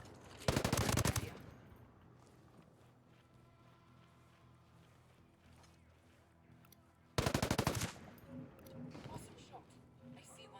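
Two loud, sustained bursts of automatic gunfire in the military shooter Ghost Recon: Breakpoint, each roughly a second long and separated by quieter game ambience.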